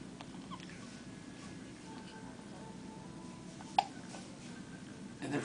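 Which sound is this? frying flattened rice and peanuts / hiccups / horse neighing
hiccups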